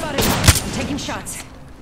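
Gunfire in the video game Apex Legends: a short cluster of sharp, close shots, one louder crack standing out, with a voice talking over the action.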